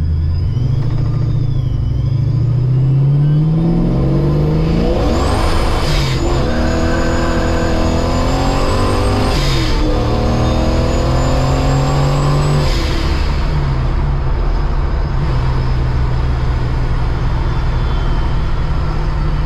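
A deep, rumbling supercharged LS V8 in a Chevelle with Flowmaster Super 50 series mufflers burbles steadily up close, rising through a couple of revs before settling back to a low throaty idle.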